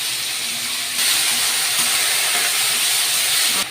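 Ginger, garlic and onion paste frying in oil in a pan with torn bay leaves and a little cumin, giving a loud, steady hiss and sizzle that holds for the whole stretch and swells slightly partway through.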